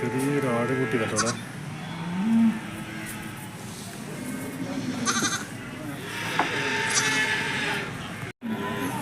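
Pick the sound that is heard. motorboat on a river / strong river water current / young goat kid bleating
young goat kid bleating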